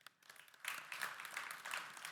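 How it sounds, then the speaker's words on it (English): Audience applause at a startup event's main stage, starting after a brief quiet moment and swelling into a steady, dense wash of clapping that holds at a moderate level to the end. "give me some applause if you've been to 2 Startup Autobahn events before"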